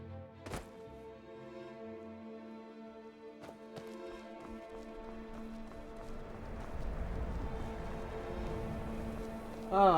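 Hooves clop in a quick, even rhythm, growing denser as a horse gallops along in Skyrim, with soft game music and a brief jingle at the end.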